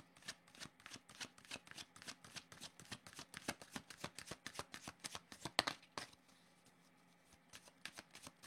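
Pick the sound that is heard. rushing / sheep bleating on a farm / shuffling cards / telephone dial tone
shuffling cards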